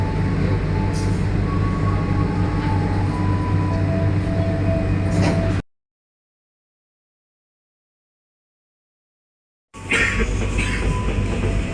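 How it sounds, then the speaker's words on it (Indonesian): The Kertanegara economy-class train rumbles steadily as it departs Malang station, and the sound cuts out to silence midway before the loud rolling noise returns. No one speaks. "kereta api Kertanegara diberangkatkan dari stasiun Kota Malang"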